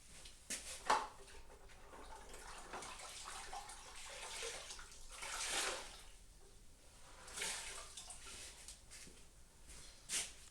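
Water swishes and splashes softly as an acrylic piece is dipped and moved around in it, with several gentle sloshing bursts spread across a quiet background.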